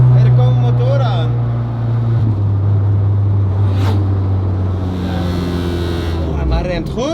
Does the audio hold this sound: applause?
no